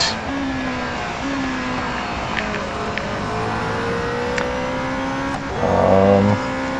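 A stock P1 race car laps the Hockenheim Short circuit in the Real Racing 3 video game. Its engine holds a steady, sustained drone, with a brief louder swell near the end and no talk.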